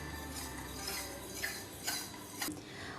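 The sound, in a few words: mixing yogurt starter into milk with a utensil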